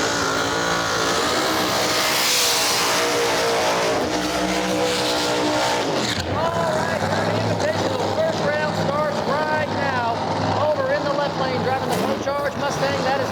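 Drag race cars at a no prep race at Rockingham Dragway, North Carolina, roar loudly down the strip, engine howls rising and fading beneath an announcer calling the action over the track.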